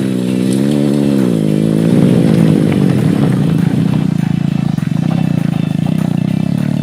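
Motorcycle in enduro riding mode on an off-road track, engine note rising and falling as the throttle opens, with a steady loud drone and some clatter throughout, no talking.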